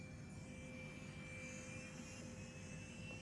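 A steady jet turbine whine hums from somewhere off at a distance, a thin high tone over a constant airy rush, quiet and unbroken.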